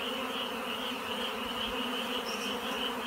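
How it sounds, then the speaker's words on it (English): Honeybees near a dishwasher fan their wings to call the swarm home after the queen, making a dense, continuous, steady buzz that stays up close and fills the whole moment. "They've got their little butts in the air and they're fanning"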